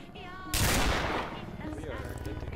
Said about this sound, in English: This daggone shotgun.